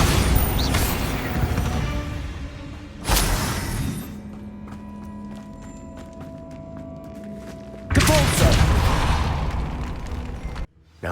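Bombarda explosion spell cast in Hogwarts Legacy inside a great room by an altar in a mine: two loud, sharp blasts with crumbling debris, separated by a quieter stretch of low ringing tones.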